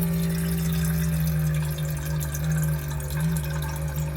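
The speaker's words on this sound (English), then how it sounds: "this is my rechargeable pump, which actually has been sounding kind of sad lately" A small rechargeable water pump with a struggling motor hums steadily with a low drone, water trickling faintly over it, running continuously and close by.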